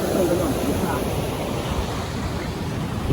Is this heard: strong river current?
yes